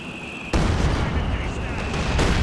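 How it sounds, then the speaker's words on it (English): A heavy mortar strike in a Company of Heroes 2 match lands as a sudden loud blast, then a dense, continuous roar of explosions and gunfire that keeps going to the end. "Oh, good heavy mortar strike."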